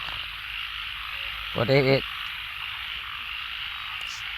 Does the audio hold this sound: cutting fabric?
no